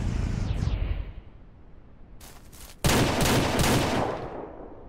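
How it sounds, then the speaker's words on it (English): Gunshots fired in the Ranch Simulator video game: a sharp burst of loud cracks after a quieter stretch, with dense repeated reports in quick succession that ring out for a couple of seconds. "Shots."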